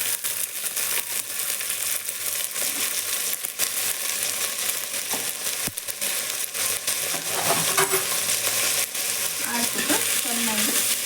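Field beans (avarekalu) frying in a pan while being stirred, a steady sizzle with scattered scraping and rattling clicks running the whole length, moderately loud and alone without talk.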